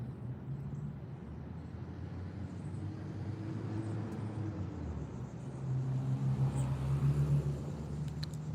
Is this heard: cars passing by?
yes